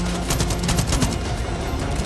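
A rocket launcher hit in Far Cry 5: a loud, dense crackling blast with rapid popping bursts that stays close and fills the whole short moment.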